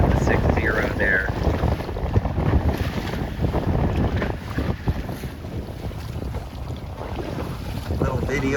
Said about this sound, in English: And the wind is building.